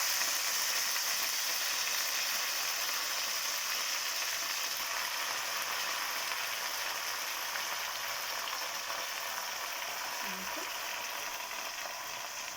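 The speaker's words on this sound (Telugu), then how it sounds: "పుంటికూరను నూనెలో ఫ్రై చేసుకున్నానండి." Gongura (sorrel) leaves frying in oil in a pan for biryani, a steady, even sizzle with faint crackle that continues without a break and has no talk over it.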